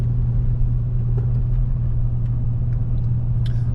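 A Toyota Land Cruiser Prado 90 driving through Tarpon Springs, its engine and road noise forming a steady, loud low rumble heard from inside the cabin, with faint ticks and rattles over it.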